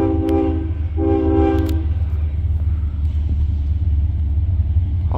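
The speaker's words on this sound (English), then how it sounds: "Mixed freight, possibly M560." A CSX mixed freight train led by a Dash 8 locomotive rolls past with a deep continuous rumble, while the horn sounds in two loud blasts early on before the steady roar of the passing cars carries on.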